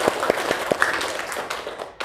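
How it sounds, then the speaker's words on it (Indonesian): A class of students claps in an Indonesian classroom during a religious education lesson, a quick run of sharp, close handclaps that thins to scattered single claps, with no talking. "tepuk tangan untuk kita semua"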